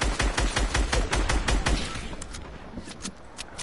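Gunfire in Fortnite, a rapid string of loud close shots in a fast steady rhythm for about two seconds, then thinner, sparser cracks and clicks fading away.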